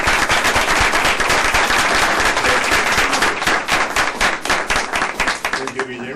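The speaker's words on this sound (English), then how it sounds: "So, a round of applause." An audience at the Hispanic Scholarship Alliance 2010 award ceremony breaks into loud, dense applause, with many hands clapping at once in a sustained burst that thins slightly toward the end.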